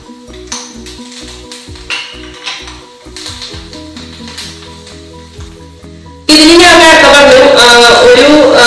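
Curry leaves drop into hot oil in a pan for Sultani dal curry, bursting into a loud, steady, crackling sizzle after a stretch of quieter kitchen sounds with light clinks and a voice talking.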